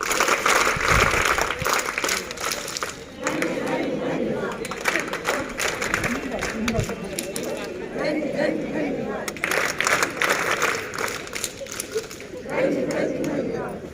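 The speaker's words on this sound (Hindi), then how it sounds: "चलिए एक साथ हाथों पर धन्यवाद, ताली बजाएं।" A group of scouts and guides at a training day in Jaunpur claps hands together in thanks, a dense, steady patter of many palms lasting throughout, mixed with crowd chatter and voices.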